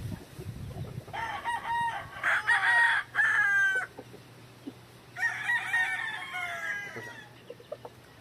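A yellow-legged hatch gamefowl rooster crows close by, two full crows separated by a pause, with a soft cluck at the start and quiet surroundings.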